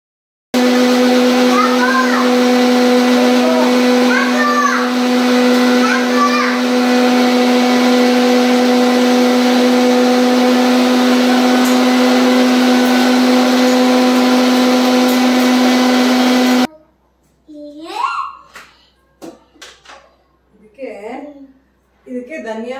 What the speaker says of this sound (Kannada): ಇನ್ನು ಇದನ್ನ ನಾನು ಮಿಕ್ಸಿ ಜಾರ್ಗೆ ಹಾಕೊಂಡು ರುಬ್ಕೋತಾ ಇದ್ದೀನಿ.